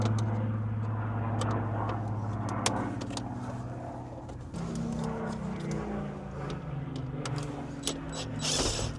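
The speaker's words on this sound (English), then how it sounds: "There seems to be a Spitfire flying around above us." A Spitfire aircraft drones overhead as a low, steady engine hum rising and shifting in pitch, heard behind close mechanical clicks and handling noises from work on a MINI's interior.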